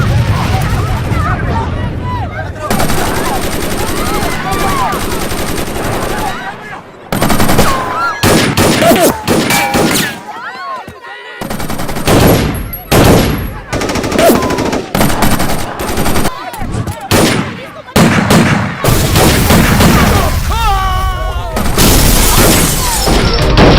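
Gunfire in a shootout in a dubbed South Indian action film: loud bursts of machine-gun and rifle fire with booms and crashing. It comes in dense stretches broken by brief gaps, with shouted voices mixed in.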